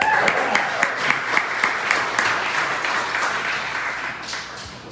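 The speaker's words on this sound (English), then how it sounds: "I'm sorry I make you clap a lot." Audience at a ceilidh music night applauds steadily, with a few sharper rhythmic claps standing out near the start before the dense clapping tapers slightly toward the end.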